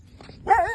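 A village dog near a rural station building gives one short, close bark after a brief quiet moment.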